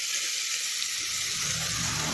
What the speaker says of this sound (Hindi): तो मैं उसमें डालूंगी अभी प्याज, जो मैंने चॉप से कटिंग रखी थी पतली पतली करके